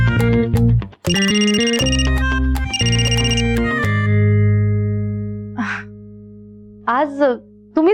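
A telephone ringtone chimes in a home scene of a Marathi TV serial: bright repeating electronic tones in two loud bursts, then a long fading tone, with brief voices near the end.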